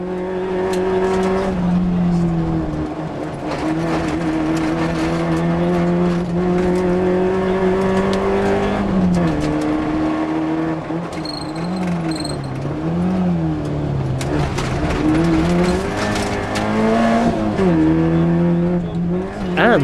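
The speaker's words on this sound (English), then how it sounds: "was now driving a 1600cc Peugeot 205" A 1600cc Peugeot 205 rally car races on a Tour of Mull Rally 2008 stage, its engine revving hard and steadily with pitch rising and dropping through gear changes and corners, loud and close throughout with no talk.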